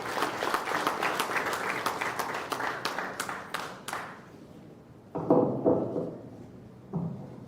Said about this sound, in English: Please give her a big round of applause for Vijaya.